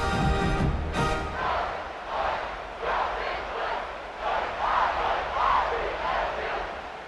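At a college football game, a home crowd in a stadium roars and cheers in repeated swelling waves, loud and sustained, with a brief whistle-like tone at the start.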